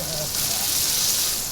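Butter sizzles on a hot Skottle, a bright, steady crackling hiss close by with no break.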